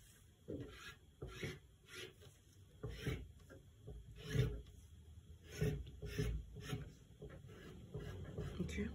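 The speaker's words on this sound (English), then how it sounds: "So I'm going to trace it all the way down to the bottom of my gown." Chalk or a marker is dragged along gown fabric on a table in faint, short scratchy strokes, rubbing in an irregular rhythm close up against a quiet room hum.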